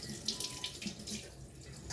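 Tap water runs steadily into a kitchen sink for washing up, a close, continuous splashing hiss with no talking.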